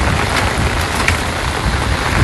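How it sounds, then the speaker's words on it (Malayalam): Steady, dense rain-season rain hisses loudly and without pause over a concrete work site, a continuous wash of falling water with a faint low rumble beneath. "നല്ല മഴയാണ്"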